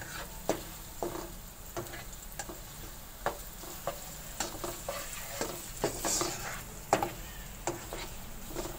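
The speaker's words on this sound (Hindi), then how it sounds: "ये प्याज ऑयल डाल दिया मैंने, प्याज को मैं गोल्डन ब्राउन करूँगी।" Onions fry in oil for a Pakistani beef yakhni pulao, a quiet close sizzle with frequent light clicks and scrapes as the pieces are stirred.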